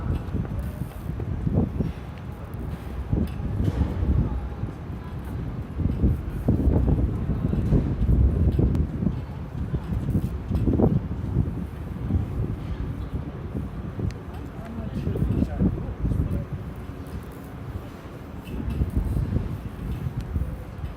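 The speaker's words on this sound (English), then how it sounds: "it's so windy." Gusty wind buffets the microphone in low rumbling bursts, steady and blustery, with a voice speaking faintly beneath it.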